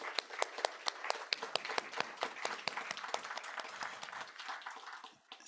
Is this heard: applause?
yes